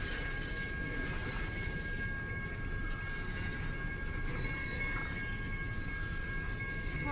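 A BNSF mixed freight train passes at night, giving a steady low rumble with faint wheel squeal throughout, heard at a moderate distance.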